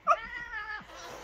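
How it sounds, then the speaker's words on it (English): Cats meowing indoors, a loud drawn-out meow with clear harmonic tone up close, fading into a softer trailing cry and room noise. "Sorry, that's the cats."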